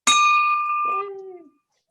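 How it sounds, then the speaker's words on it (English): A bell is rung once at a club meeting, giving a bright clang with a sustained ringing tone that decays over about a second and a half, heard alone and close. "I'm ringing the bell for our new club."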